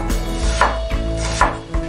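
A knife chops an onion thinly on a cutting board, giving several quick, close knocks in an uneven rhythm over steady background noise, with no talk.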